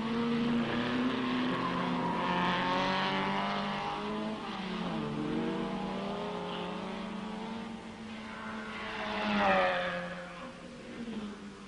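Big GT racing cars roar past on the Rouen circuit during the 1964 Tour de France Automobile, a sustained engine drone that swells and fades as cars pass, with a rising rev near the end.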